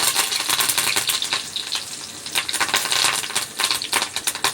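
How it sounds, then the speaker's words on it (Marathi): Garlic frying in hot oil for kadhi, a loud close crackling sizzle with dense popping and spitting throughout, no talking. "लसूण टाकायचे. लसूण थोडा लाल झाला की लगेच कढी"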